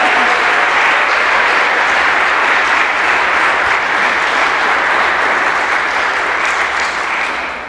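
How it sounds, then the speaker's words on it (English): A school audience at a Catholic school's All Saints Day program breaks into loud, sustained clapping, a dense even wash of many hands lasting several seconds before starting to fade at the end. "Can we give them another round of applause?"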